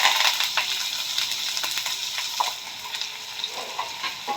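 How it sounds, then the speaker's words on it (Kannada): Dry red chillies, curry leaves and onion sizzle and crackle steadily in hot oil in a pan, a close, continuous frying hiss with small pops and occasional stirring clicks. "ಚೆನ್ನಾಗಿ ಫ್ರೈ ಮಾಡ್ಕೊಳ್ಳೋಣ"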